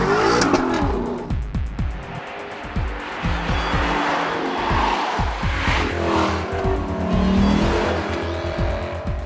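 A new Lexus LC500 with a naturally aspirated V8 accelerates hard around the Zolder circuit, its loud engine climbing through repeated gear changes while the tires squeal, heard up close without talk.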